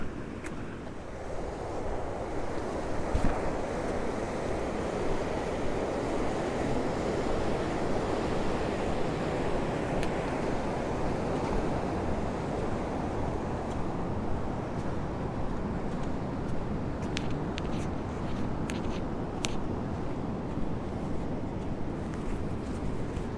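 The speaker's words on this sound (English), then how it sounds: "the river is flowing this fast, and it's flowing really fast" A fast-flowing river running high with released water near Cross Lake campground, a steady broad rushing wash that stays even and continuous, with no voices heard.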